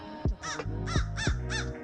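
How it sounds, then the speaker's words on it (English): Big crows calling on an outdoor hike, giving about four loud, harsh caws in an uneven series, close and clear with no talking over them. "These big chonker crows."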